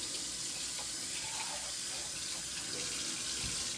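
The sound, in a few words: washing a measuring cup under running tap water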